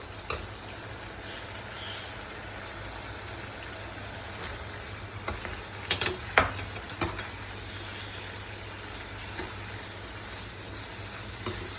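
Corn kernels dropped into hot oil fry with a steady close sizzle, broken by a short cluster of sharp pops and crackles midway, with no voices.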